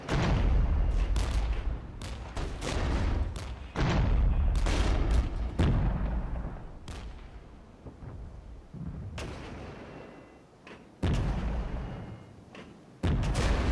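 Missiles and artillery-like launches boom out in a battle in the real-time strategy game Regiments, loud heavy blasts arriving in irregular clusters, some close together and others spaced by short lulls, with no voices.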